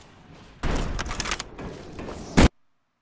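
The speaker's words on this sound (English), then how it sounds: "Machine gun, M60," An M60 machine gun firing in a video game, a loud close burst of rapid shots lasting under two seconds, followed by a sharp final blast and abrupt silence.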